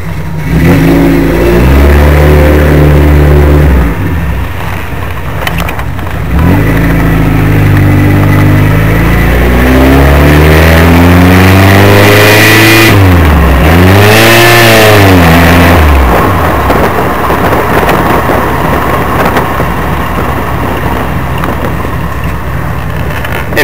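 A car engine fitted with VAS programmable fuel injection, with no cold start valve or extra injector, cranks and catches on the first try. It then revs up and down in several loud, close sweeps before settling into a steady idle.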